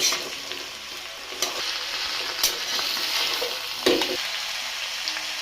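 Pumpkin palya sizzles steadily in a hot pan while it is stirred and mixed, with a few sharper scraping clacks of the spatula against the pan, close and without talk.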